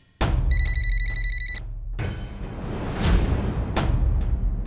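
A telephone rings at night with an electronic bell-like trill, one clear ring burst near the start followed by sharp whooshing dramatic sound effects.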